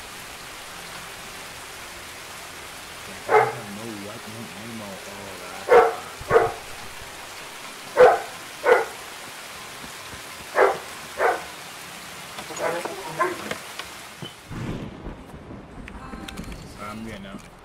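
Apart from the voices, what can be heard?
heavy rain in video game Escape from Tarkov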